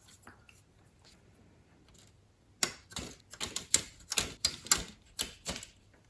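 Sharp clicking snips of nippers cutting plastic model kit parts off the sprue for a Hobby Boss 1/35 KrAZ 255B truck chassis, a quick irregular series of close, crisp cuts after a quiet start.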